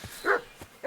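A dog in Kingdom Come: Deliverance II gives two or three short, close barks spread across under a second, with no voices over them.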